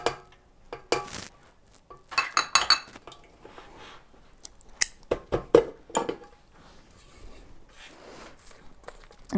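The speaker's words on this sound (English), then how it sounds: "it's always worth scraping the bottom of your bowl just to make sure there's nothing left on the bottom that didn't get incorporated" A spatula scrapes vanilla cupcake batter around a mixing bowl, giving a series of close, irregular scrapes and clinks against the bowl with quiet gaps between strokes.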